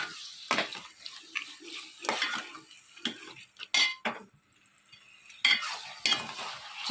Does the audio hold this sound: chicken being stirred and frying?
yes